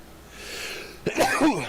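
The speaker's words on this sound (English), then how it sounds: "About to sneeze. Hold on." A single sharp sneeze bursts out over quiet background noise, followed by a short vocal sound.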